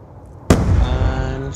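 A single sharp gunshot in the video game Black Ops 2, in a 4v4 Search and Destroy match, bursting loud after near-silence and ringing out briefly.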